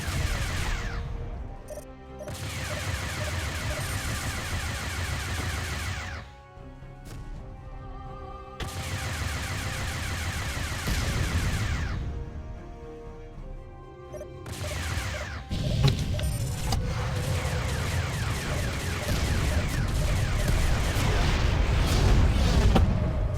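Spaceship weapons fire in a space combat video game, loud repeated bursts and heavy booms in long stretches, with brief quiet gaps between volleys.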